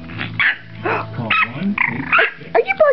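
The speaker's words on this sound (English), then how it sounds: "Are you barking at me?" A Shih Tzu barking in a frantic burst of yips and growly barks, close and loud, with a person speaking among the barks.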